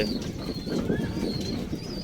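Pigeons in an indoor breeding room full of cages give soft, close cooing calls with a few faint chirps and brief wing flutters over a low murmur.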